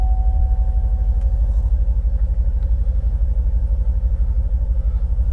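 2016 Chevrolet Corvette Z06 3LZ Z07 engine running after a push-button start, a deep steady rumbling idle with a throbbing low pulse, close and loud with no voices.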